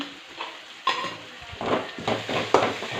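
Tomatoes with turmeric powder frying in a pan, a steady sizzle broken by repeated scraping stirs and a few sharp clinks of the spoon against the pan, close and without talk.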